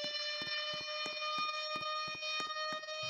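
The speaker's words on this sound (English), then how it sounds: "Oh my god, tornado siren!" Tornado siren in Roblox sounding a steady, clean multi-tone wail, held throughout, with regular clicking ticks layered over it.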